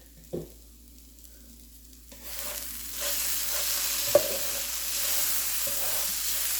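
Hash browns seasoned with garlic powder start frying in a pan, a quiet opening with a utensil knock, then the sizzle swells and holds steady while being stirred, with another sharp clink partway through.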